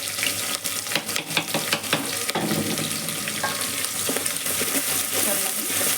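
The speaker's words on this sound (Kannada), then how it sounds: "ಮತ್ತು ಅದನ್ನು ಈರುಳ್ಳಿ ಹಾಕ್ಕೊಳ್ತಾ ಇದ್ದೀನಿ, ಮತ್ತು ಕರಿಬೇವಿನ ಸೊಪ್ಪು ಹಾಕ್ಕೊಳ್ತಾ ಇದ್ದೀನಿ." Onion, green chili and curry leaves sizzle and crackle loudly in a hot pan, a dense continuous frying hiss with spoon scrapes in the first couple of seconds.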